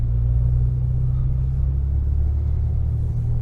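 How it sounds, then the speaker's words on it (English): Steady low engine and exhaust drone inside the cabin of a Turbo 6 car with stock OEM mufflers on a test drive, a continuous loud rumble without talk. "So now we're gonna take it for a little test drive and see if we fix the droning."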